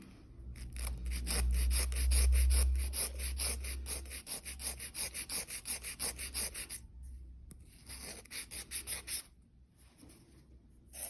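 Hand sanding on a wall-mounted structure makes rapid, regular back-and-forth scraping strokes, close and fairly quiet, with a low rumble early on and brief pauses between sets of strokes.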